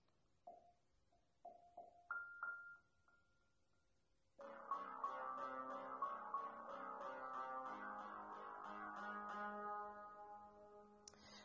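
A custom ringtone built in GarageBand plays faintly: a few plucky chime-like notes, then a fuller synth passage with steady pulsing chords that runs to the end, no talking.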